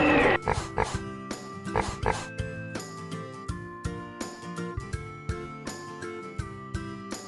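Two or three quick piglet oinks at the start, then a bouncy musical backing plays on without them.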